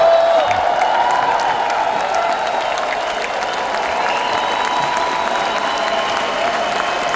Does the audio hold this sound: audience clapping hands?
yes